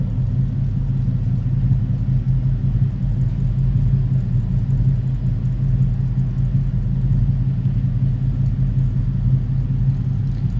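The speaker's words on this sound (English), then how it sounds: "Nice, deep, throaty exhaust note, no doubt about that" A 1965 Ford Mustang Coupe idles with a deep, throaty exhaust rumble, steady, loud and close throughout, with no talk over it.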